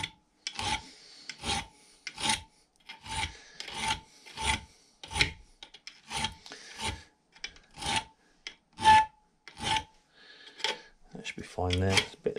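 A hand file rasps across the weld-slagged teeth of a vintage Ransomes Marquis cylinder mower back blade, with about fourteen steady, evenly spaced strokes, close and loud, followed by a brief clatter at the end.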